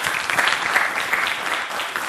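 A studio audience gives a steady round of applause, dense clapping sustained evenly and loudly throughout with no talk over it.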